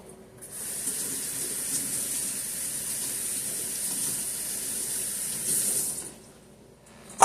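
Tap water pours steadily into a sink over a whole head of fresh broccoli, a continuous close hiss lasting about six seconds before the flow stops, followed by a brief knock.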